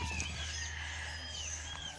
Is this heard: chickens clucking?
yes